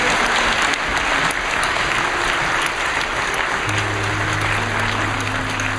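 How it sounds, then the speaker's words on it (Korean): A church congregation applauds during worship after a sign-language praise team performs, a thick, even wash of clapping held at full volume throughout, with a low held organ-like tone entering partway. "다시 한번 경배의 박수 드립니다."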